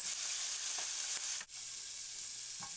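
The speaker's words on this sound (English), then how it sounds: "In the pan, add some oil. Add the shrimp and cook for 4 minutes." Shrimp cooking in oil in a pan give a steady, hissing sizzle up close, broken by a brief dip and a few light clicks of a utensil.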